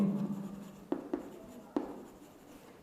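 A pen writing on paper while working a probability exercise, a few short scratchy strokes with distinct taps between quiet pauses, close and clear with no talking.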